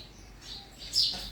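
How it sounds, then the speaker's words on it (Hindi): Birds chirping outdoors in a village setting, a few faint, thin tweets scattered over quiet background, one brighter chirp standing out near the end. "चिड़िया चहचहाते हुए"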